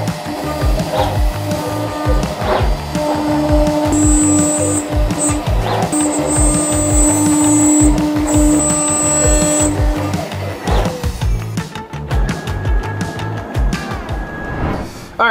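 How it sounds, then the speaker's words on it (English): A CNC router spindle whines steadily while pocketing and profile-cutting small parts held with tabs and double-sided tape. It runs with a rhythmic, pulsing cutting chatter and bright tonal hums, then tapers off near the end. "So we'll be pocketing out these two parts right here and then doing a profile around these three parts, cutting them all out."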